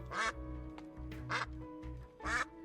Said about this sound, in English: I wish you could spam the quack.